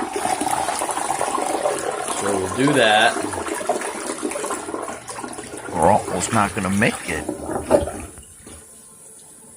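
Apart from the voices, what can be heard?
toilet flushing after adding Green Gobbler main line opener gel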